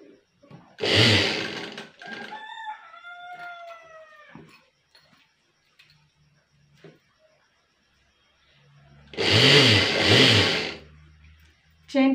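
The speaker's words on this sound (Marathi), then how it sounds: "इथून इथपर्यंत आपल्याला शिलाई मारायची आहे" Sewing machine stitching a zipper onto a fabric pencil pouch, two loud close bursts of rapid stitching separated by a quieter stretch with talk in between.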